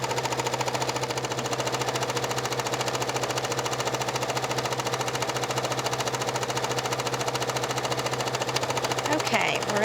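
A sewing machine runs steadily, stitching a line on a circular jewelry pouch, a continuous mid-loud mechanical hum with a low drone throughout.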